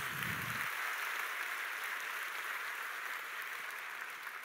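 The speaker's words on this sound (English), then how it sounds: "so let's give them a round of applause." Steady, dense applause from a graduation ceremony audience for a university symphonic wind ensemble fills the hall at close range, holding level throughout with a brief low rumble at the start.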